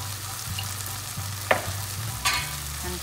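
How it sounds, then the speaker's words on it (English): A teaspoon of ginger garlic paste fries in a pan for samosa chaat, a close, steady sizzle with a low hum and two brief scraping stirs. "Let's add 1 teaspoon of ginger garlic paste"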